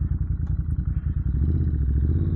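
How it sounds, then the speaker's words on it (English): A Ducati motorcycle rumbles on the move, its loud exhaust giving a low, pulsing beat that swells into a steadier drone as the rider accelerates. "May notice the exhaust is a little louder."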